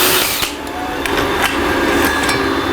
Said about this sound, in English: Definitely gonna slow down the speed on my drill.